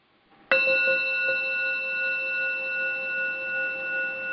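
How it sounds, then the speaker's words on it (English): A meditation bell is struck once, close and clear, after a near-silent start, and its bright metallic tone rings on, slowly fading with a gentle pulsing shimmer. "We will begin with the sound of the bell."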